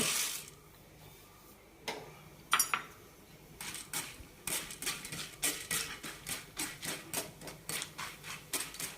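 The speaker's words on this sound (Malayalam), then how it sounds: "ഇനി പൊട്ടുകടല വറുത്തെടുക്കാം" About half a cup of roasted split chickpeas scrape and clatter in a metal pan, settling into a steady rhythmic stirring of evenly spaced rattles.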